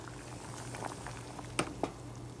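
Water bubbles at a low, steady boil in a pot, with soft popping and a couple of sharper bursts, heard alone and fairly quiet.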